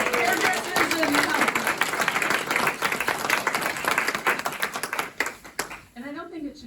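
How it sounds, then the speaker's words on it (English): Applause and clapping from the audience at a city council meeting, a dense, steady crowd of hands sustained for several seconds before it thins out, with a voice speaking at the very end. "one more round of applause for the hairdressers"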